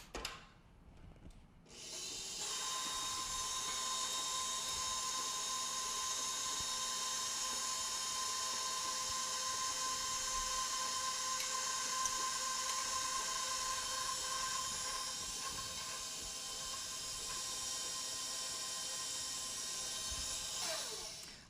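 An electric mixer runs on low through muffin batter for blueberry crumble muffins as flour is added, a steady, close motor whine that holds almost unbroken after a brief start.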